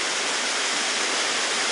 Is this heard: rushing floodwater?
yes